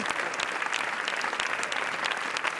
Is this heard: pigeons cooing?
no